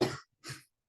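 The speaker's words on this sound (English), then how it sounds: "I keep coughing" Two harsh coughs in quick succession, close and loud, with a short silent gap between them and nothing else heard.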